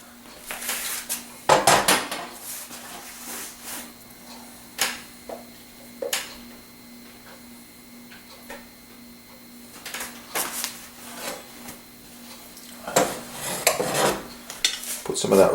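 Mushroom rice served from a large pot onto a plate, with intermittent clinks and scrapes of a utensil against metal and ceramic, separated by quiet pauses and a faint steady hum.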